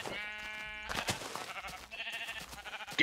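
A Minecraft sheep gives a couple of close, nasal bleats in quick succession, clear and loud against a faint background.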